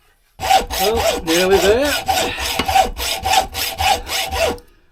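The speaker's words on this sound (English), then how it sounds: "it's always good practice to be able to hacksaw" Hand hacksaw cutting metal stock for a button die: loud, close, rhythmic back-and-forth strokes at a steady pace, with a man's brief remark partway through.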